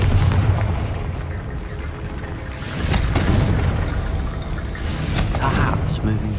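In the video game Hogwarts Legacy, a Confringo spell sets off booming fiery explosions, heavy bursts rumbling through the scene while a voice speaks over them.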